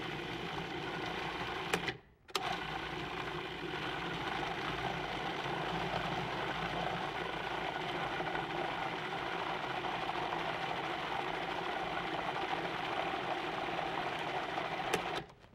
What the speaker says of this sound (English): So all into the food processor,